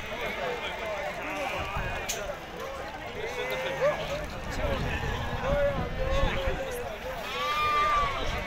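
Sheep and ewes bleating repeatedly at an outdoor livestock market in Azrou, Morocco, several overlapping calls near and far under the constant chatter of a crowd and people talking.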